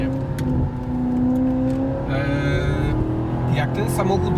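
A Maserati GranTurismo with a 405 hp Ferrari-built engine drives past or revs, a loud steady engine drone with rising tones, while someone talks over it.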